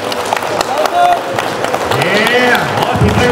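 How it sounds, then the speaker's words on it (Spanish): Crowd at an expo applauding children entering a competition, with clapping mixed with cheering voices and shouts rising over it. "Un aplauso."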